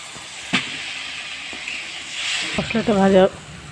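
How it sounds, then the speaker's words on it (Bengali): A spice paste fries in a pan with a little water, giving a soft steady sizzle with a few brief clinks, and a person speaks briefly near the end. "সামান্য একটু জল দিয়ে কষিয়ে নেব।"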